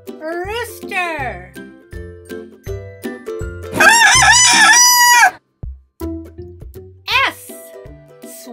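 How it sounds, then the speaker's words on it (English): A rooster crows loudly once, a long strained call, set between bits of a voice and other short animal calls. "Rooster."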